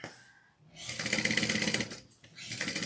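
A sewing machine top stitches a retro duffle bag, a loud, close, fast mechanical whirring after a short quiet start, with a brief break before the stitching resumes.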